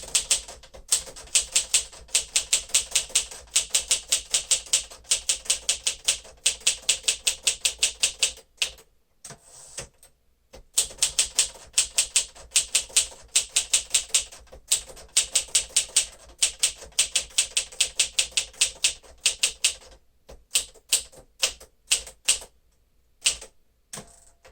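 A 1954 Smith-Corona Silent-Super typewriter clatters under quick, rhythmic typing, close and crisp, in long runs of keystrokes broken by short pauses and the occasional carriage return.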